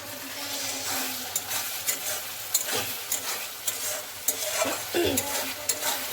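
Spices sizzle steadily in a pan, close and continuous, with a scatter of sharp utensil scrapes and taps against the metal throughout, and no talk over it.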